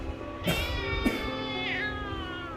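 A cat meows a few times in close succession, clear and close, with a rising then falling tonal cry near the end and no talk over it.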